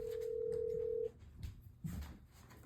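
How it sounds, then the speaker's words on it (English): A telephone line gives a steady ringback tone for about a second during a call to the Rio hotel in Las Vegas, followed by faint clicks and line noise. "So I proceeded to call Rio back and talk to the AI that answers the phone."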